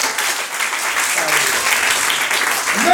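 A church congregation claps together in steady, loud applause that fills the room, with voices rising under the clapping.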